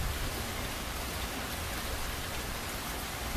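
Hard rain falling in the outer bands of a hurricane, a steady dense hiss of heavy downpour, close and continuous with no voices.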